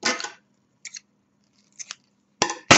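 Scissors snip through blue crochet yarn in a quiet room: a longer cut first, then a quick double snip, another pair, and two sharp final cuts, close and crisp with silence between.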